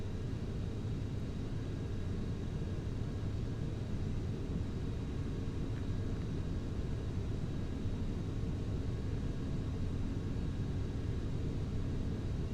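A Ryanair airliner in Flight Simulator X spools up to full throttle for takeoff from Lisbon, a loud, steady roaring rumble with broadband rush that holds constant throughout, no voices.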